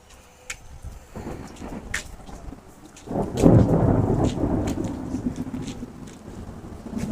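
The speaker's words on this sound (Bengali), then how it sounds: "ঝিমঝিম বৃষ্টির মধ্যে ভিডিও করতেছিলাম।" Rain falls steadily on a rooftop garden while thunder rumbles in, building to a loud, rolling peak midway and lingering as a low rumble under the patter; no voices.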